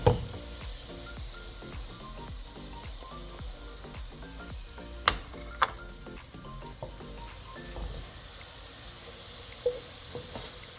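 Sliced onions fry and sizzle steadily in a hot pan for fish shorba, a constant crackling hiss with occasional sharp pops and clinks from stirring, no voices.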